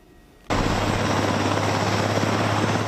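After a brief quiet moment, a CAL FIRE Sikorsky S-70 Hawk helicopter's loud steady rotor thrum and engine whine kick in abruptly and continue close by, at sunset.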